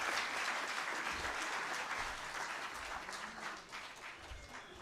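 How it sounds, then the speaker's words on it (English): An audience applauds a speaker at a live event, steady dense clapping from a large crowd that slowly tapers off while staying full and close. "A round of applause for this wonderful gentleman"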